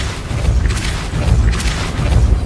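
A Depulso spell blast in the game Hogwarts Legacy, a loud, deep booming whoosh with a rumbling low end that surges in two swells, close and full, with no voices over it.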